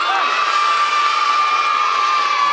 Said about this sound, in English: I want you to give me the same spectacular cheer